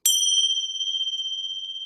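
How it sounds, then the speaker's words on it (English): A single bell struck to open a restorative yoga class rings out with a bright ding, then a pure, steady tone slowly fades and shimmers, alone and close. "Let us begin this class with the bell."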